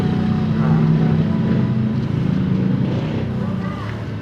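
A Yamaha NMAX scooter engine runs steadily with a constant droning hum, close by and loud throughout.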